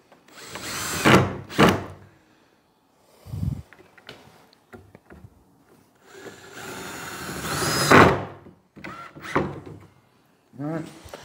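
A power drill drives screws into a sliding barn door being built, several short whirring bursts with pauses between them, close by, with brief speech around the bursts.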